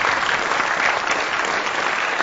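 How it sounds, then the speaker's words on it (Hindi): A dense, even burst of crowd applause fills the scene, loud and continuous, with no voices over it. "इन मिस्टर स्ट्रॉन्ग के लिए तालियां बजाइए।"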